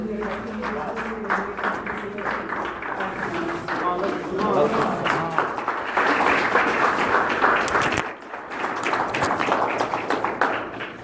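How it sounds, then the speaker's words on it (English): Audience applause welcoming a speaker to the rostrum at a gathering, with a steady, dense clapping crowd across the whole stretch, mixed with voices and some cheering. "bring to the rostrum our brother with a warm round of applause"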